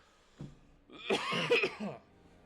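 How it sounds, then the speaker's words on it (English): A brief grunt followed by a longer, rough throat clearing from one person, close and fairly loud, then quiet. "let me clear my throat."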